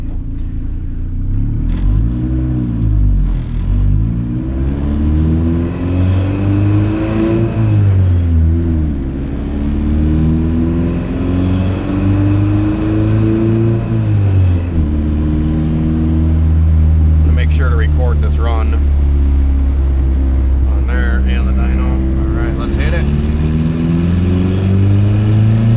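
Honda VTEC engine revving hard on a dyno during single-cam tuning, the rising and falling engine note sweeping up through repeated pulls, loud and close throughout, with a few brief voices over it.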